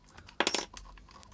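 An old 1929 one-penny coin is handled against metal, giving a short cluster of close, bright metallic clinks in a quiet room.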